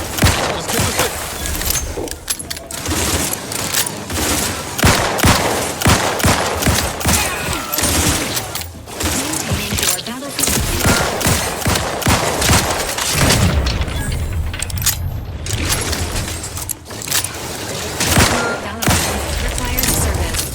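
Video game combat in The Outer Worlds 2 with dense, loud gunfire bursts and booming impacts that continue almost without pause, mixed with game effects and occasional voices.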